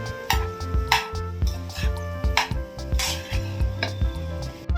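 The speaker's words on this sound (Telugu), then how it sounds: "ఇప్పుడు రైస్ మిక్స్ చేసుకుందాం." Red fried rice being mixed in a pan, with repeated scraping and clanking of a spatula against metal in a steady rhythm over a soft sizzle, close and fairly loud with no talking.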